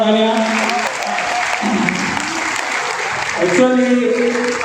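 Applause from a crowd at a felicitation gathering fills the space steadily, with a voice speaking and musical tones running over the clapping throughout.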